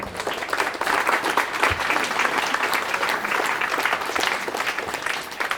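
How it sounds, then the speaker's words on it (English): Polite audience applause following a live science stage demonstration, steady, dense clapping from a seated crowd filling the room at moderate loudness, neither thunderous nor frenzied, with no voices over it. "Now, that's what I call polite applause"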